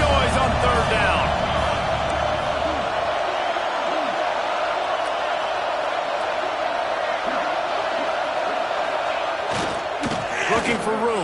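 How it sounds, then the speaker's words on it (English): A football stadium crowd in a college football video game roars continuously on third down, a dense, loud wall of noise that holds steady throughout while commentary talk runs over it. "This dog crowd is off the leash, and they are coming after them, bringing noise on third down."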